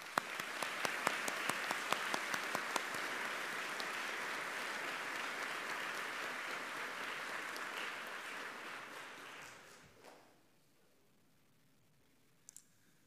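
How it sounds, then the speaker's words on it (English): Audience applause at a 2019 Baptist college and academy graduation ceremony: sustained clapping from a large crowd that holds steady for about nine seconds, then fades out into near silence, with a couple of faint clicks at the end. "Let's give them a round of applause."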